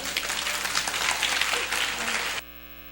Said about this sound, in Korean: 다시 한번 사지가 떨리도록 암송해 주신 두 분께 큰 박수를 부탁드리겠습니다